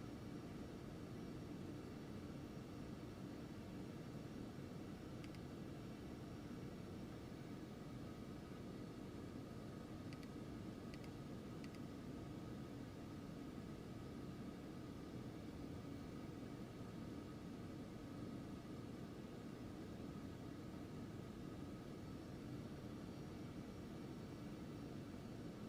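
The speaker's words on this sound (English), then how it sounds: "So we're taxiing along Alpha to Foxtrot." Steady broadband engine hum of an Aerobask Phenom 300 business jet taxiing in X-Plane 11, a continuous even drone with no talk and only faint brief clicks near the middle.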